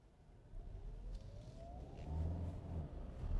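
A Kia Sorento hybrid SUV pulls away from a standstill, heard from inside as a low rumble rising with a faint whining motor tone that climbs steadily in pitch, quiet and continuous without talk.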